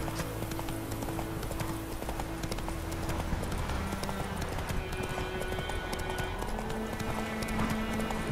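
Horse hooves galloping in The Witcher 3, a steady rapid clip-clop rhythm running throughout at a fairly constant level over ambient game sound and a low music bed.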